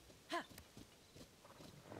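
A horse in Zelda: Tears of the Kingdom gives a short snort or whinny near the start, followed by soft irregular hoof thuds, all quiet and faint.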